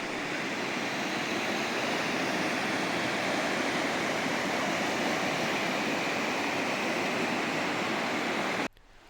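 The Kuttiyadi river rushes over rocks in a steady, loud, unbroken roar of flowing water with no voices, cutting off abruptly at the very end.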